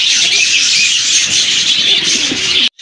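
A flock of pigeons at a bird market, mixed chirps and calls forming a dense, loud, continuous chatter heard close, cutting off abruptly near the end.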